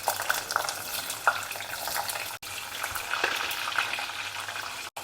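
Mustard seeds, garlic and onions crackle and sizzle in hot oil, a steady close frying hiss with scattered sharp pops and a brief stir or clatter midway.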